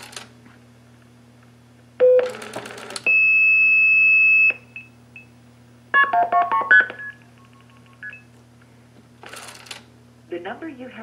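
DTMF tones from a pulse-dial-to-DTMF converter working in blue box mode, short bursts of beeping tones and a long steady tone separated by pauses over a low electrical hum, with a telephone network announcement in between.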